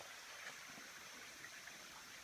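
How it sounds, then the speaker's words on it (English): A tiny waterfall on a woodland creek gives a faint, continuous rushing and splashing, steady and broadband with no breaks or voices. "As you can see, there's this tiny little waterfall."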